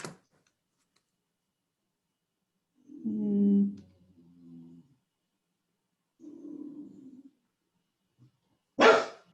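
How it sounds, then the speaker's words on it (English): A dog barks indoors during an online tutorial call, two short separated bouts of barking, fairly close and moderately loud against an otherwise quiet room, followed by a sharp noise at the end. "I'm sorry, my dog."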